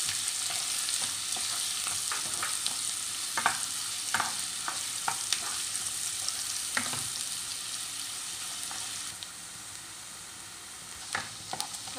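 Finely chopped onions brown in a pan for dal makhani, giving a faint, even sizzle with scattered scraping stirs and light utensil taps, close and with no talking.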